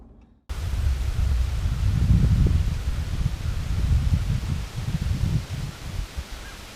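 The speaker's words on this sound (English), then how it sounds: "It's breezy, the wind is kind of swirly." Breezy, swirling wind buffets outdoors at an archery hunting stand, a steady rumbling gusty roar with rising and falling surges that sets in abruptly after a brief quiet start.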